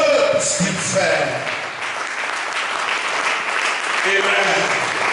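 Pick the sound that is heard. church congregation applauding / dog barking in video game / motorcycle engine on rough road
church congregation applauding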